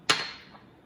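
An egg cracked on a bowl edge: a single sharp tap at the start, then a short faint decay, close and alone.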